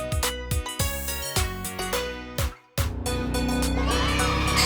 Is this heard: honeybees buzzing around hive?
no